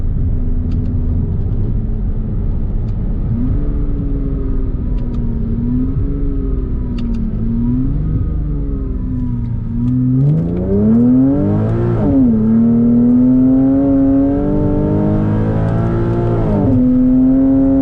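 A Porsche Cayman S engine revving on a hill climb, loud and close, with a steady rumbling drone that rises and falls in pitch as the throttle is pushed, climbing sharply in the later half.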